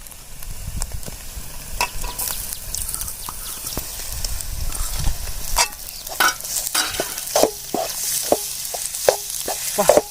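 Ground secret masala hits frying egg podimas in a pan, a close steady sizzle broken by repeated scraping stirs and clicks from the spatula against the pan.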